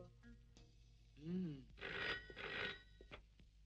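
A telephone bell rings in two short bursts, fairly close and clear, with brief quiet gaps and faint sounds around them.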